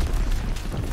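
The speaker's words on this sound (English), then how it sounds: "When did he throw a grenade?" A grenade explodes in Call of Duty WW2, a dense, loud, low rumbling boom that fills the whole moment with no clear onset, as if heard right on top of the blast.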